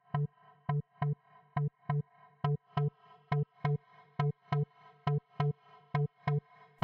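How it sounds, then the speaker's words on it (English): A low, filtered synth stab with reverb, built from modular software synth modules, repeats in a steady rhythmic pattern of short, punchy hits, clean and isolated with no voices. "A low stab sound."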